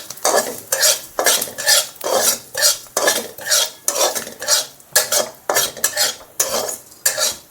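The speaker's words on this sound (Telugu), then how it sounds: "ఇది కలుపుతున్నాను." Fennel, cumin, carom, kalonji and fenugreek seeds being stirred in hot oil, a rhythmic series of scraping strokes about twice a second over a soft sizzle, close and steady.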